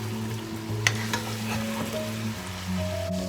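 Chicken frying in a pan with ground achari masala, a constant close sizzle with a few sharp scrapes of stirring and no talk, while making achari chicken.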